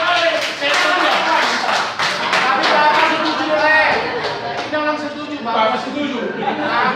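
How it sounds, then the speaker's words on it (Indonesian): Audience at a Simalungun pantun battle (adu umpasa) in a church hall breaks into lively applause, a dense rattle of many hands clapping steadily under crowd chatter and voices for several seconds. "Tepuk tangan yang meriah."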